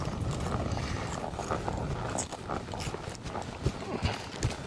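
A horse moving to the left in a training session, hooves thudding in a loose, uneven rhythm at close range, with soft scuffs and faint ambient noise around them.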